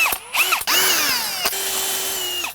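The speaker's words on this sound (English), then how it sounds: "then pre-drill the rest of them" A power drill bores pilot holes for screws on an Andersen 400 Series storm door, with short whirring bursts followed by a sustained, slowly winding-down whine up close.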